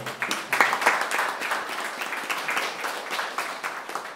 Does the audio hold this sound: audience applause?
yes